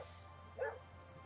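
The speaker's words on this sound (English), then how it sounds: "Looks like a rat, barks like a demon." A single short yap from a small dog in an AI-generated clip, one quick bark near the middle over a faint steady hum, with no talking.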